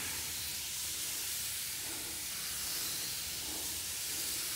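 Steady hissing spray from a pesticide sprayer misting bean plants in a garden, a continuous close broadband hiss lasting throughout with no talk.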